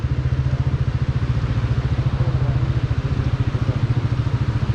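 A motorcycle engine idles close by after arriving at Shigar Fort, its low, rapid, even thumping pulse steady and loud throughout with no voices over it.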